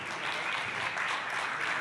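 Brief burst of audience applause at a talk, many hands clapping together in a dense, steady wash.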